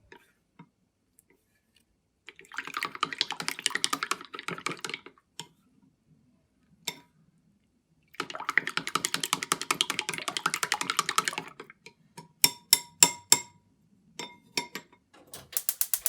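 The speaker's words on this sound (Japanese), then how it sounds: "薄焼き卵では空気を含まないように左右に切って混ぜます。" Chopsticks beating eggs side to side in a bowl for a thin Japanese omelette (kinshi tamago), a quick rhythmic ticking and clicking in two long bursts, then a few sharper separate taps, close and alone.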